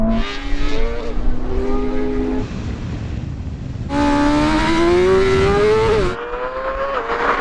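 Ferrari SF90 launching hard in a drag race against a BMW M superbike, engine pitch climbing through rising gear-like sweeps, loud and close, with a brief drop before a second surge and a cut as the run ends.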